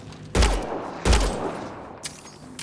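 Two heavy gunshot bursts from weapons in Mass Effect: Andromeda, about a second apart, each with a booming low-end thump and a decaying tail, followed by a fainter crack near the end, with no talk over them.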